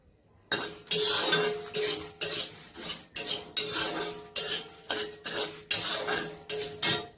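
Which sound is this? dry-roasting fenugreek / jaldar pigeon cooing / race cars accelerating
dry-roasting fenugreek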